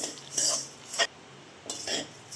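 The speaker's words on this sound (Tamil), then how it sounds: "கை விடாமலே கிளறிட்டு இருக்கணும்" A spoon scrapes and stirs roasting egg flour in a pan, giving a couple of bright metallic scraping strokes with a quiet gap between them, close and fairly soft.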